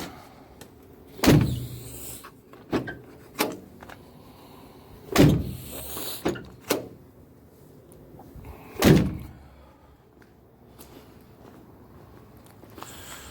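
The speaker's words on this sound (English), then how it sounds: "I'll be able to close my door and open it with the handle again" The side door of a Ford E-250 van opens and shuts by its handle, several loud thunks and latch clunks spaced a few seconds apart with quieter clicks and rattles between.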